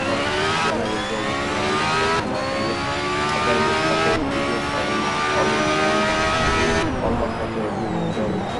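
A Lamborghini Sesto Elemento laps a race track, its engine roaring loud and close with steady high revs that briefly drop at each gear change.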